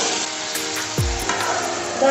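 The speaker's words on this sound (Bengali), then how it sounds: "এতক্ষণ ঢাকা খুলে আমি কষাচ্ছিলাম, ভাজা ভাজা করছিলাম।" Chicken pieces sauté in hot oil in an open pan for a gondhoraj lime chicken dish, a close, steady sizzle with a few stirring scrapes and a clunk of the utensil.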